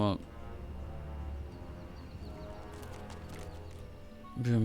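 Horse in the fantasy strategy game Dungeons 3, a soft whinny and hoof clops over a steady game music bed, with a voice briefly speaking at the start and end.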